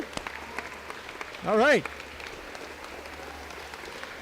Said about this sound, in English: Wow, you get a standing ovation.